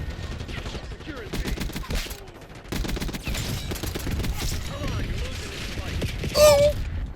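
Gunfire from the video game Black Ops 6 rattles in rapid fusillades and bursts across the whole stretch, loud and near, with a short lull partway through.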